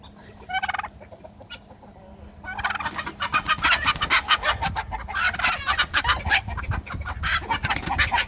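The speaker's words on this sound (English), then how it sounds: "So if the chickens start squawking, the roosters come for the rescue" Chickens cluck and squawk in a busy, overlapping chorus, growing louder and more agitated after a quieter start, with a couple of sharp calls early on.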